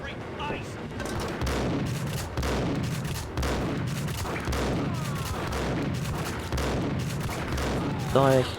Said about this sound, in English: If you keep shooting, you run out of ammo.